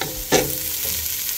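Cooked lentils, rice and quinoa with garlic sizzle steadily in a frying pan, with a sharp scrape of stirring near the start and a constant close frying hiss throughout.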